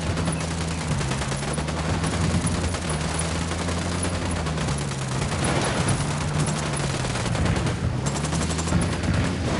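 Sustained gunfire from squad weapons in the game Ghost Recon: dense, loud overlapping rifle and machine-gun bursts roll on without pause, steady and close throughout, with no talk.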